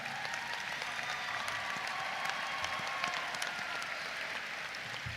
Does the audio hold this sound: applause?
yes